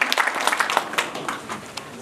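Applause at a fundraising gathering, a short burst of scattered hand claps from a crowd that quickly thins into a few lingering claps.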